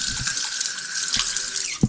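Tap water runs steadily into a sink, a close, even rushing hiss with a faint tonal whine and a couple of small knocks near the end.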